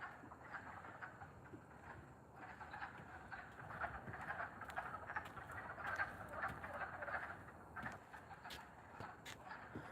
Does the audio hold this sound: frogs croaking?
yes